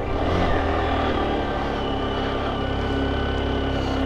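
Motorcycle engine held at a steady, loud rev in first gear on a rough, broken mountain road in Ladakh's Zanskar region between Padum and Leh, a continuous close drone with no talk.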